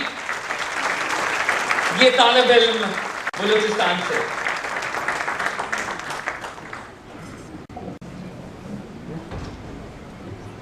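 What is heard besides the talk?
applause for an engineering student from Balochistan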